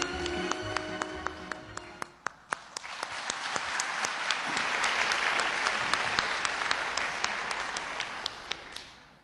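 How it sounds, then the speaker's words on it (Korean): Applause at the opening ceremony of an international conference of women in science and technology, a sustained, dense crowd clapping that swells and holds steadily, with sharper individual claps standing out near the start. "큰 박수로 환영해 주십시오."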